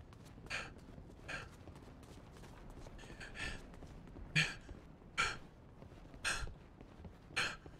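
Rhythmic breathing from a player comes through voice chat during a Fortnite Creative map session, with soft, breathy gasps repeating roughly every second over a low background hum, fairly faint and unaccompanied by any talking.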